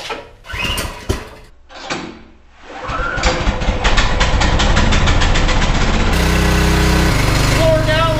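A petrol engine on a 3100 PSI pressure washer sputters through a few pulls, then catches and runs at a loud, steady idle for several seconds, with someone talking briefly near the start.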